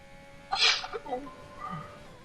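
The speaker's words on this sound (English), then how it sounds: "I swear I just heard someone sneeze." One short, sharp sneeze bursts out nearby, followed by quieter vocal sounds and faint background hum.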